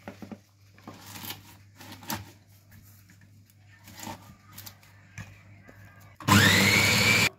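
A kitchen blender whirs loudly through fresh spinach for about a second at the very end, after quiet clinks and handling sounds in the kitchen.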